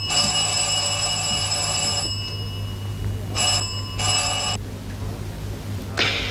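An old-fashioned telephone bell rings in a 1940s Sherlock Holmes film scene: a long bright ring, a pause, two shorter rings, then another starting. It sounds loud and close over a steady low hum, with no talking.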